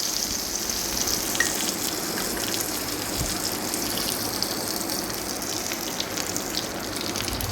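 Hot oil tempering with asafoetida poured into a spinach curry, producing a loud, steady sizzle and crackling hiss that continues without break.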